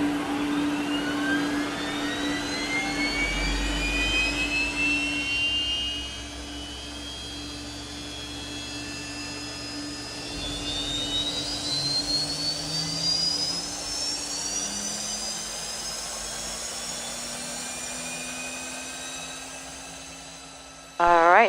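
A jet aircraft engine spooling up on start after the APU is running, heard from inside as a rising whine with climbing tones over a steady drone, growing gradually over about twenty seconds before a sudden loud burst at the end.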